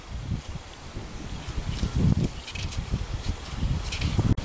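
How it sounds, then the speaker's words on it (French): Wind gusting through a ravine with dry leaves rustling loudly close to the microphone, steady buffeting with stronger surges and scattered crackles throughout. "le vent, il faudrait qu'il arrête un peu de me décoiffer"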